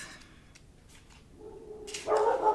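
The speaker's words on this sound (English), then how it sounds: "I knew he was going to start barking." A dog gives a few short barks and yips, rising into a louder bark toward the end, fairly close with no talking.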